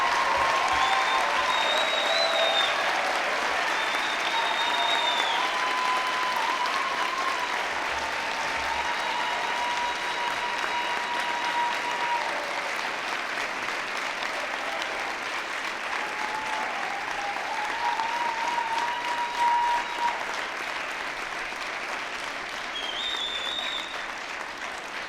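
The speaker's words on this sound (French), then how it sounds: "Applaudissons chaleureusement les nouveaux diplômés des baccalauréats de la Faculté des sciences de l'éducation." Sustained audience applause for new Faculty of Education bachelor's graduates at a 2021 graduation ceremony, steady and even for about twenty-five seconds with a few faint voices in the background.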